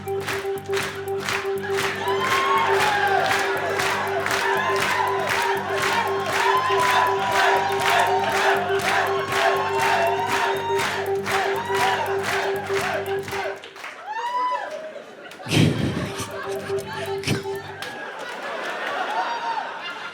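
A live talk-show audience claps in unison, a loud, rhythmic beat with cheering and a held musical tone, running for about thirteen seconds before cutting off abruptly, followed by scattered voices and talking.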